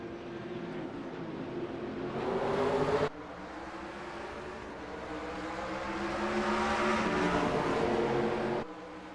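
Stock cars in a Scrambler Series championship race roaring at a restart, engines surging loud and near with rising revs, then a sharp cut and steady high-pitched drone as the field accelerates.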